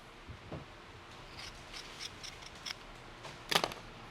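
Scissors snipping through a Stormtrooper armor strap, several close, crisp cuts spread unevenly over a few seconds with a sharper snip near the end, no talking.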